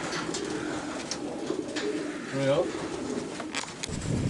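Racing pigeons cooing inside a hamper before a one-loft race in Queensland, a soft coo rising over steady crowd murmur and nearby talk.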